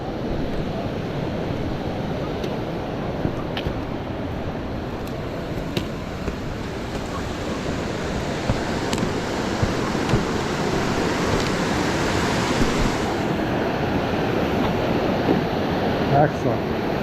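A creek flows under a small bridge on a Canadian wilderness trail, a steady broadband rushing of water that stays constant and close, slightly louder toward the end.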